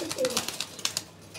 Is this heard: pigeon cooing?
yes